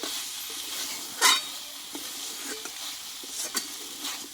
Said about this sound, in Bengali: আমি ভালোভাবে মশলার সঙ্গে ভেন্ডিটা কষিয়ে নিয়েছি